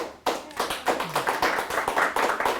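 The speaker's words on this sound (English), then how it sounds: "If I can get a round of applause for Rich" A round of applause at a talk by CEO Rich Russakoff, with a few individual pairs of hands clapping in a loose, uneven rhythm close by, no crowd wash behind them.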